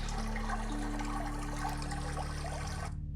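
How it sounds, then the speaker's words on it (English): Gentle ambient water splashing and trickling sound effects from an interactive aquarium, over a low steady hum, continuous for a few seconds before cutting off abruptly. "So you can hear there's ambient audio and splashing sounds."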